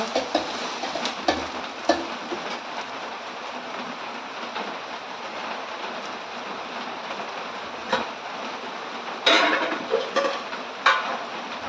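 Okra (ladies finger) fries in a pan with coconut, chilies and onion, giving a steady broadband sizzle with occasional clinks and scrapes of stirring, most noticeable near the end.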